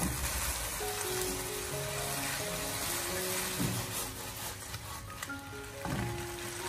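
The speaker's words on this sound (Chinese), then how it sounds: "最后在出锅之前再添加少许的明油，然后再继续的将它简单的翻炒几下，给它翻炒均匀" Lotus root slices stir-fried in a wok with a little finishing oil, giving a steady close sizzle with soft scraping and tossing of the slices throughout, no voices.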